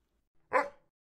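A friendly house dog gives a single short, close bark after a faint yip, then silence.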